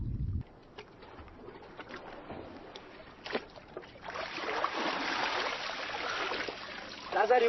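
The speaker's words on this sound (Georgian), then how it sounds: "ცივსიჩუმეს მხოლოდ წყალსაცავის ტალღების ხმაური არღვევს." Reservoir water laps and washes inside a dark, flooded church, at first faint and intermittent, then swelling into a fuller, continuous wash of waves with a few sharper splashes and knocks.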